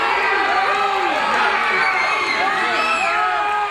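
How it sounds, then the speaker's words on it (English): A wrestling crowd at a live championship match cheers loudly and continuously, a dense roar of voices with whoops and shouts, while a commentator talks over it. "I think they're just cheering the excitement of the match"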